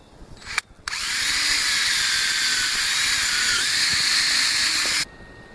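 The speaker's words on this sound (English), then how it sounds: "I'm going to be making a pilot hole into that rafter because I want to make sure I don't split it." A power drill bores a pilot hole into a 2x6 wooden roof truss rafter, a steady high whine running about four seconds after a brief start, close and loud, then stopping cleanly.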